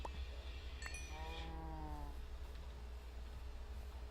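A single faint, drawn-out moo from a Minecraft cow sounds briefly in the middle, over a low steady background hum.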